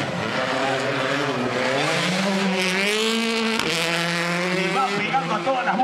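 A Hyundai rally car races past on a dirt rally stage at Rally Argentina, its engine climbing and shifting through gears with a loud, close roar while a commentator talks excitedly over it.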